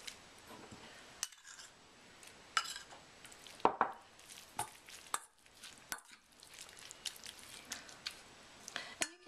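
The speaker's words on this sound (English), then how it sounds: "mix it in with the dulse so it gets marinated up quite nicely" Dulse seaweed being mixed with a sauce to marinate, with soft, close squelching and occasional sharp clicks of a utensil against a bowl, intermittent and quiet.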